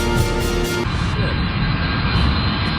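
An airplane's jet engine roars in a steady, loud, broadband rush with a high whine that shifts partway through, played back from a recording and filling the whole moment.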